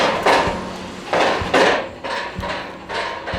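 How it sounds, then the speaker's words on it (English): Nearby construction work gives off a series of irregular hammering knocks, about six or seven sharp thuds with some rattling between them, fairly close and loud. "Vasco's has started construction right behind us. They're like drilling some crazy stuff over here."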